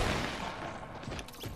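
Video game gunfire in a quiet match, a dense crackle of shots at moderate distance that fades slightly toward the end, with no voices over it.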